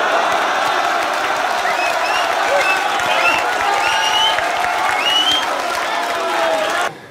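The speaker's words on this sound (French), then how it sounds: "c'était Saminem, vous pouvez l'applaudir" A crowd at a French rap battle claps and cheers loudly, with whoops and whistles rising above the dense applause before it cuts off abruptly at the end.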